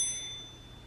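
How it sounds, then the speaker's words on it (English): A notification bell sound effect gives a single bright, high ding that rings out clearly and fades quickly, with nothing else alongside it. "hit the notification bell up above"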